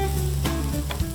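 Soy sauce and vinegar hit a hot pan for chicken dumpling thukpa, a loud, close burst of sizzling and spitting with a quick clatter near the end, no voices.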